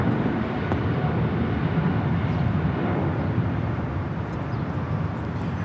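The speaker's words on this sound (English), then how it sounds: "Austrian Airlines Flight 82 taking off to Vienna on the 777-200ER" An Austrian Airlines Boeing 777-200ER takes off at LAX, its engines producing a broad, steady roar that holds loud and unbroken throughout.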